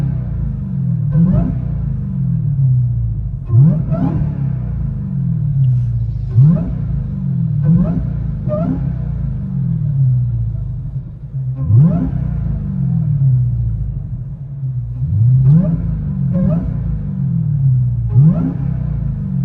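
Deep, burbling exhaust rumble of a Dodge SRT Hellcat heard from inside the cabin with the valves closed, a steady low idle broken by regular throaty pulses every second or two.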